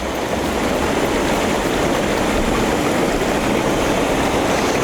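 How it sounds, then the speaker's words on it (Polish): Air jets of a Bestway Lay-Z-Spa Grenada Airjet inflatable hot tub bubble the water through 190 holes fed by a compressor, a steady close rushing and fizzing wash with no talk. "Dookoła są to dysze napowietrzające, produkujące te bąbelki, czy upuszczające to powietrze, które z kompresora leci do tej wody."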